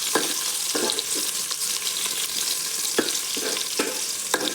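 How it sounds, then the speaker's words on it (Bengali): Chopped onion and a bay leaf frying in hot oil for mutton tehri, a steady broadband sizzle with a few soft stirring knocks, close up and without talk. "তেলের মধ্যে আমি দিয়ে নিয়েছি কুচানো পেঁয়াজ ও একটা তেজপাতা। তারপরে পেঁয়াজটাকে একটু হালকা করে ভেজে নেব।"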